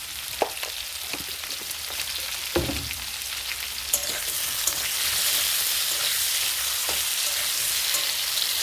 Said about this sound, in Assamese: প্ৰথমতে মই অমিতা আৰু আলুখিনি নিমখখিনিৰ সৈতে অলপ ফ্ৰাই কৰি ল'ম